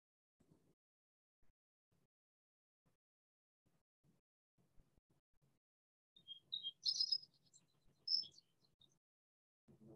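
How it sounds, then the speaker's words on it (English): Vesper sparrow song from a Montana grassland: a few faint, high chirping phrases that arrive in short bursts well into an otherwise near-silent stretch, sounding distant. "Vesper sparrow."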